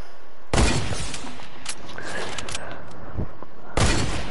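Sniper gunfire in a video game, two sharp loud shots separated by a few seconds, with a rattling burst of game noise and faint voices between them.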